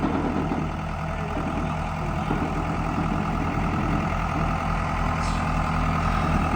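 Heavy farm machinery, a loader and a backhoe, idles and works while loading equipment onto a trailer: a steady, loud diesel rumble with low engine throb throughout and no voices.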